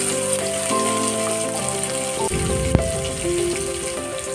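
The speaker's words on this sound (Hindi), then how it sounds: "प्याज को गोल्डन ब्राउन होने तक हम फ्राई कर लें" Chopped onions frying in oil in a pan for a dhaba-style mixed dal with drumsticks, after cumin and mustard seeds have crackled; a steady, close, loud sizzle with music playing over it and one sharp clack.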